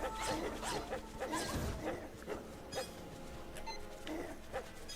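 Small dogs barking and yipping in a Legend of Zelda game, several short bursts scattered through the moment amid faint game sounds, fairly quiet.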